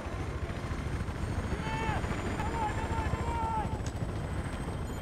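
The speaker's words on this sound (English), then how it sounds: "So, how about we just run for the helicopter this time?" Helicopter in the video game Battlefield 3, a constant rotor and engine drone running underneath the whole stretch, with brief tonal game sounds layered on top.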